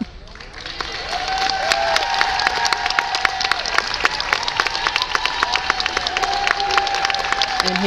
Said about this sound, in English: he's getting also a great round of applause